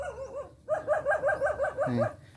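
A dog barks in a quick series of about eight sharp, close barks after a brief pause, ending in a lower yip.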